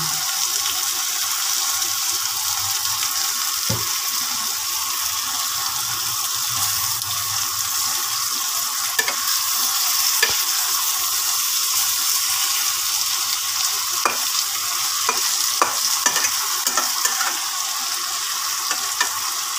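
Kachki fish frying in a pan with a garlic and black cumin tempering, a steady bright sizzle that runs unbroken, with a few soft clinks and stirring scrapes over it.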